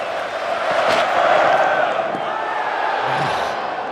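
A cricket crowd at an England versus Australia Test match at the Oval rises to its feet, giving a broad, sustained roar of cheering and murmuring that swells and holds steady throughout.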